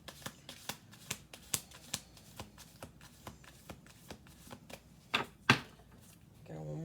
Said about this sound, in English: Got one more shuffle here.